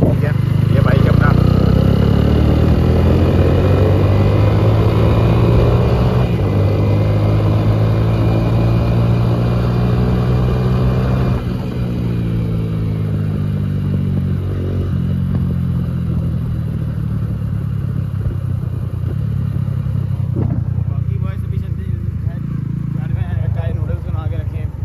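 A motorcycle engine runs steadily through a road ride, its drone changing pitch as it speeds up and settles. It stays loud and close the whole way, with some clatter and wind noise.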